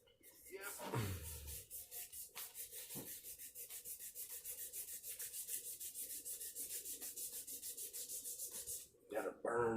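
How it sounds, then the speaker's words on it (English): Sandpaper is rubbed by hand in quick, even back-and-forth strokes that go on steadily for several seconds, close and fairly quiet, with a soft knock at the start and at the end. "just my hands and a piece of sandpaper is how I'm doing it"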